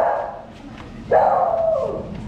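Rescued dogs on Isla Mujeres let out a couple of close, whining bark-like yelps, one drawn out and falling in pitch, amid nearby voices.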